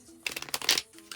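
Tarot cards are shuffled by hand in a short, close burst of crisp riffling and flutter lasting under a second, with a brief tap afterward.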